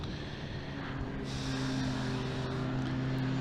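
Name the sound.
BMW E36 racing car induction noise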